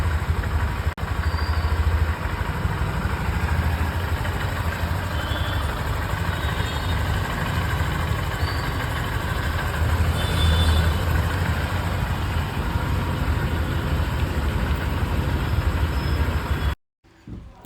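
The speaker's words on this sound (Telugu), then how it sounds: "అలాగే ఇంజన్ సౌండ్ అయితే చూసుకోవచ్చండి" A steady engine idles nearby at a constant low rumble for a long stretch, then cuts off abruptly at the end.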